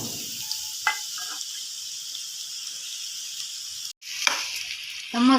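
Finely chopped onion sizzles steadily in a hot pan for an egg chutney, a close, even hiss with a few brief clatters and stirring sounds.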